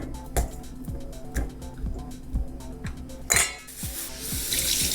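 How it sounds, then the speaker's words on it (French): A metal spoon scoops ripe avocado flesh into a bowl for guacamole in a home kitchen, giving a steady series of light clinks and soft scrapes, close and fairly quiet, with a brighter rustle near the end. "pour vider les avocats, c'est simple, on se prend une cuillère"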